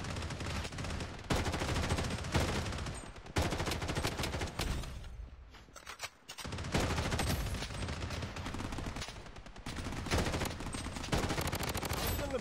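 Dense automatic gunfire from the mobile first-person shooter Blood Strike, loud rapid bursts filling most of the stretch, broken by a brief lull near the middle before the shooting resumes just as heavily.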